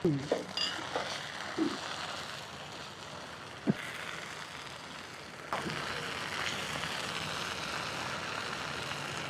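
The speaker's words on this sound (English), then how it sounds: "Stirring and cooking the chili paste and all the rest of the spices" Ground chili and turmeric paste with spices frying and being stirred in a pan for Kerala fish curry: a steady hissing sizzle with a few scraping clanks of the utensil, partly under speech.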